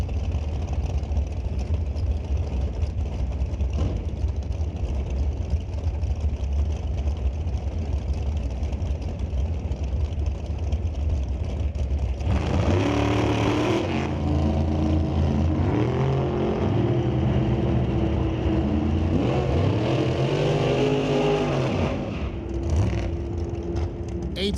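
NHRA drag racing cars at Canadian SPORTSnationals qualifying, with Gillespie in the left lane and Bobby Gordon on the right, idle with a steady rumble, then launch into a loud roar that rises in pitch and fades down the strip.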